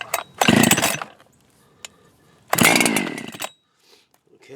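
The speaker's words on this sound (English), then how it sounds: "we're going to try to start the chainsaw" Two pull-start attempts on a Husqvarna 371xp chainsaw after a cylinder kit install, each a loud rasping burst about a second long that sputters and fails to keep running, with quiet pauses between.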